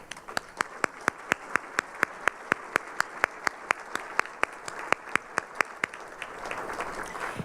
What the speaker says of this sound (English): And I think you all deserve a great round of applause.